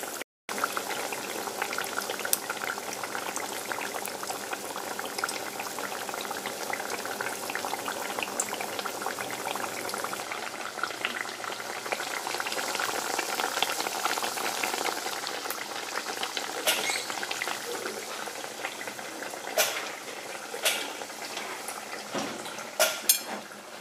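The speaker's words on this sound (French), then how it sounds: "vous la trempez dans la pâte, vous la mettez dans l'huile, et une fois que c'est frit" Battered courgette fritters cooking in hot oil, a dense continuous bubbling sizzle that holds steady for a long stretch, with a few faint clinks and knocks of utensils near the end.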